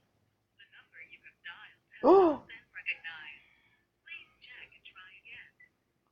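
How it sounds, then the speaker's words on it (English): A phone in a horror visual novel game set in a mansion dials out in short, repeated electronic tone bursts, with a person's startled gasp partway through. "Quickly, I reach for my phone and dial her up."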